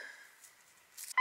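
A metal detector sweeping a beach gives a short electronic beep, preceded by faint tonal hum and a brief burst of noise.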